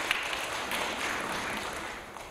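Audience at a Seoul send-off ceremony for a pilgrimage group clapping, a faint, soft patter of scattered applause from a room, steady and somewhat distant.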